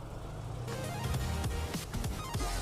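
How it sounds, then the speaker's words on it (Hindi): An older carburetted, non-EFI car idles at an outdoor Sunday car market in Lahore, a low, steady engine rumble close by with passing clatter and background noise. "इंजन को स्टार्ट भी करने लगे हैं तो साउंड भी ज़रा इसका आपको शायद आ रहा हो गाड़ी का कि किस तरह का साउंड है"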